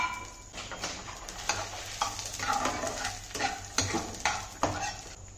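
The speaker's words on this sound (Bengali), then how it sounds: "ও তো ফ্রাই প্যানটা গরম হয়ে গেছে, তেলও গরম হয়ে গেছে, এর মধ্যে দিয়ে দিলাম কিছুটা মৌরি, কিছু দিয়ে দিলাম জিরে" Fennel seeds, cumin and peanuts sizzle in hot oil in a frying pan, a steady crackling fry punctuated by repeated stirring scrapes at an irregular rhythm, close and moderately loud.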